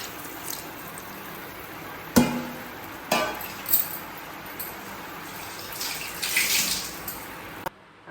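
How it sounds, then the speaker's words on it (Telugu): Water runs and splashes into a metal pot of mutton curry with tomatoes, with a few sharp clinks and knocks along the way, close up and fairly loud. "గిన్నెను కడుక్కొని కొద్ది వాటర్ వేసుకోవాలి."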